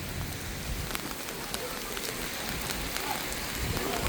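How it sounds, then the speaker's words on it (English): Steady heavy rain pours down with a dense, even hiss, continuous throughout, with no voices over it. "Yeah, that rain's coming down pretty good again now."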